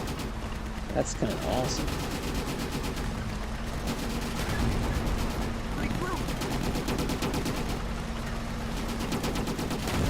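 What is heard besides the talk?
gunfire in the video game Easy Red 2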